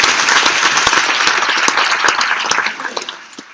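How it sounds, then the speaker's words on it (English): Audience applause fills a hall at a robotics and drones headliner event, a dense, loud wash of many hands clapping that holds steady for a few seconds before thinning out and fading near the end. "Let's give them another round of applause for supporting this sector."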